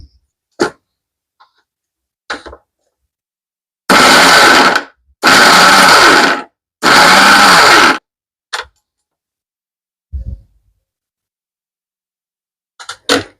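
A mixer grinder roughly crushes a coriander spice mix in three loud bursts of about a second each, with silent gaps between them, followed by a few short clicks and knocks of handling the jar.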